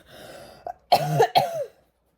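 A person coughs and clears the throat, a short throaty rasp followed by two sharp coughs in quick succession, close and alone, then quiet.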